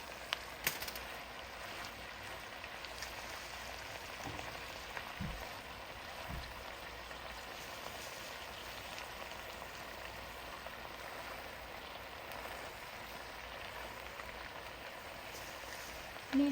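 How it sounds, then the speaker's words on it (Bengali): Red amaranth greens frying in a pan in a home garden, a steady soft hiss and crackle like light rain, faint and continuous with a few small pops. "নিজের গার্ডেনে শাক রান্না করতেছি"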